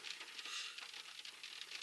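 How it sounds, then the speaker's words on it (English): Rain patters steadily at night in faint, fine, irregular ticks, a soft continuous hiss of drops with no voices. "It's still raining."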